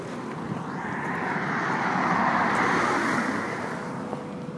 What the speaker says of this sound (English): the sound of the cars is extremely distracting